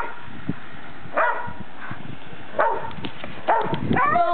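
Several dogs playing outside in the snow on a winter day in Ohio give short, sharp barks and yips in a few separate bursts, close by, with quiet gaps between them.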